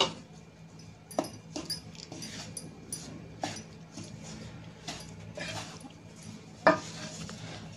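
Sesame and jaggery mixture stirred in a pan with cardamom powder, giving quiet scraping strokes of a spoon and occasional clinks against the metal, with a sharper knock near the end.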